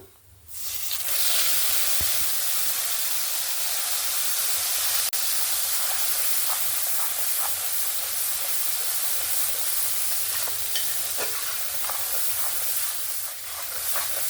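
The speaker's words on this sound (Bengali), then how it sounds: "বেটে রাখা সমস্ত মশলা দিয়ে ভালো করে আমি কষিয়ে নেব।" Ground spice paste hits hot oil in a pan while cooking a potato and cauliflower dish, bursting into a loud steady sizzle with scattered crackles and pops that continue evenly throughout.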